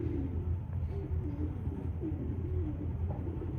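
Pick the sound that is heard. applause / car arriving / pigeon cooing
pigeon cooing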